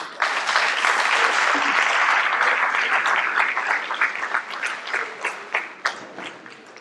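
Sustained audience applause fills the hall at a hospital inauguration ceremony, dense and steady before thinning into scattered individual claps near the end.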